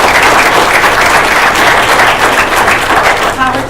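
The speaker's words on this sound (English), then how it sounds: "So let's give them a round of applause." A school board meeting audience claps loudly and steadily for the whole stretch, a dense wash of applause from a crowded room, starting to thin out toward the end as a voice begins to rise.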